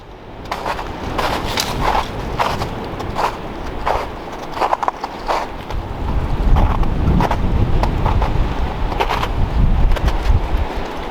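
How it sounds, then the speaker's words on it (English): Strong wind gusting through the woods of New Hampshire, a rough, blustery rush buffeting the microphone, with scattered crunching steps early on before the roar swells and holds loud. "Wow, that wind is something else."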